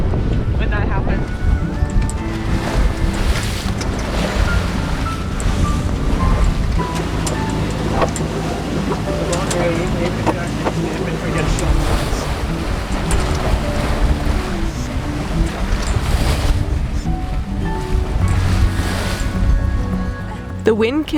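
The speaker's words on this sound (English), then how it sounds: "The wind continued to increase, bringing with it a short and sharp swell" A sailing boat in the Indian Ocean meets strong, rising wind and a short, sharp sea swell. Wind roars and water rushes loudly and continuously, with a voice speaking over it.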